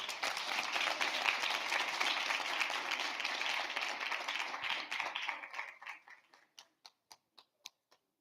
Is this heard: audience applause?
yes